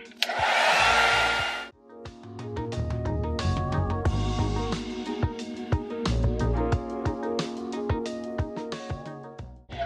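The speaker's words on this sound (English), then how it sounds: "This blow dryer has been through a lot" A hair dryer roars loudly for a second or so and then cuts off, and upbeat music with a steady beat plays after it.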